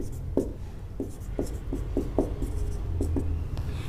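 Chalk or marker scratches out short, separate strokes on a board during a psychology class on growth and development. The taps and scrapes sound close and dry against a quiet room hum, with no talking.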